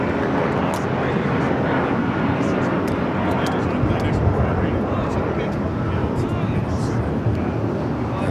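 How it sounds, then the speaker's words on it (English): A United airliner takes off from runway 25 right at LAX, its engines a steady, broad roar throughout, with a person talking over it. "United flight taking off on the 25 right."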